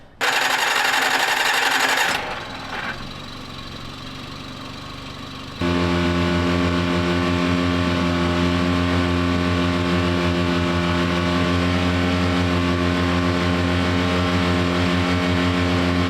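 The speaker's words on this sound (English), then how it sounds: "I'll check my other engine, see how much that charges." A second-hand boat engine starts after a short burst of other noise, then runs steadily with a loud, even, humming drone that continues to the end.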